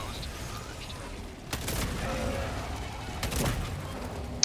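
An automated sentry turret fires in the shooter game Helldivers 2, two short bursts of rapid gunfire over a low background hum of game ambience, moderately loud against the quieter surroundings.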